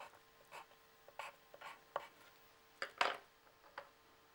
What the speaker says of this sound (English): You can also use the dark pencil on a dried watercolour.